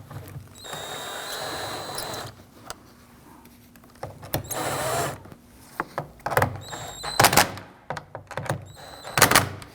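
Bolts and nuts being snugged down on a side mirror of a 2010-2019 Ford Taurus, with short bursts of a power tool and scattered clanks and thunks at close range, no talk.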